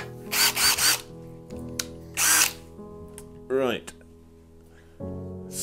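A power drill whines in several short bursts drilling holes into a ceiling, close and loud, separated by pauses with a steady hum in the background.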